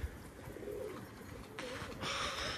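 A pigeon coos softly near a coop, a faint, brief call over a low background rustle and hum.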